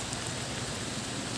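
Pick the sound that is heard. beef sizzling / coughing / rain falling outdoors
rain falling outdoors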